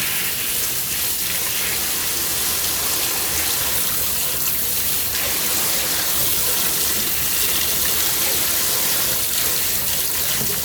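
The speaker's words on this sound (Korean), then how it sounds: "표고를 흐르는 물에 얼른 살짝 씻으세요" Shiitake mushrooms rinsed quickly under a running kitchen tap, a steady, close, continuous rush of flowing water.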